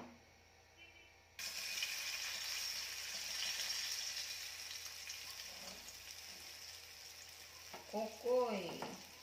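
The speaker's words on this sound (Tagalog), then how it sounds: "Kumukulo ng ating mantika." Hot oil suddenly starts sizzling and crackling steadily after a quiet moment as okoy vegetable fritters fry, a continuous frying hiss with faint clinks near the end.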